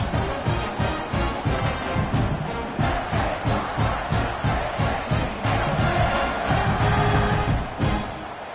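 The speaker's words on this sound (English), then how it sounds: "this crowd is buzzing after that last" A stadium crowd roars in a college football video game, Maryland against Purdue, after a touchdown run: a dense, loud wall of cheering with a rhythmic pulse and no voices standing out.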